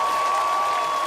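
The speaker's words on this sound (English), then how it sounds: "Okay, that's enough clapping." Steady applause from a crowd, a dense wash of clapping that stays fairly loud and even through the whole short stretch, with a faint constant tone running underneath.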